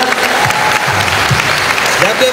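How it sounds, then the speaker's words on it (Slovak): Audience applause for a dancer at a dance show, a steady wash of clapping throughout, fairly loud and continuous with crowd noise mixed in. "Ja poprosím veľký potlesk pre tohto tanečníka."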